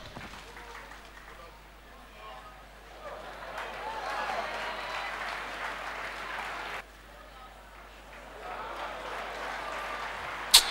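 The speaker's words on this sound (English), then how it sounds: "Clap for Dr. Jesus." A church congregation claps in worship, a moderate crowd clapping that swells, briefly breaks, then resumes, with voices and crowd noise mixed throughout and a sharp bump near the end.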